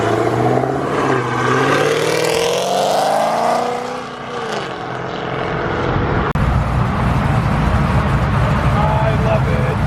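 Cars leaving a car show rev hard and accelerate as they drive sideways, engine pitch rising and falling loudly nearby, with voices of onlookers mixed in.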